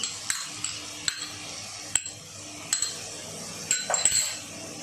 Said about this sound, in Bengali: এবার আমি সসগুলো হালকা নেড়ে নেবো ভালো করে।